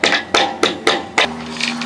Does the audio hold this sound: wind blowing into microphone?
no